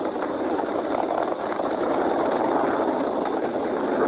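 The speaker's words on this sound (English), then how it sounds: "M1D throttle down. We're throttling down to get ready for the period of maximum dynamic pressure." A SpaceX Falcon 9 rocket roars steadily as its Merlin 1D engines throttle down during launch, a dense, even, broadband rumble heard from a distance, without gaps or spoken words.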